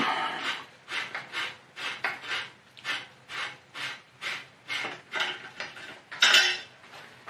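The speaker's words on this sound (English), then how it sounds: "Now let's remove our rear rack screw, bolt, whatever you want to call it" A rear rack screw being worked out of a velomobile with a hand tool, giving a steady run of about fourteen rhythmic scraping, ratcheting strokes, close and fairly loud, with no voices over it.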